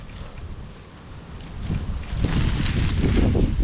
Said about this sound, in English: Oh, some wind.